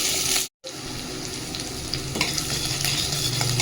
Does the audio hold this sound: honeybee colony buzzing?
no